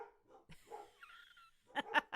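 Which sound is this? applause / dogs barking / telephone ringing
dogs barking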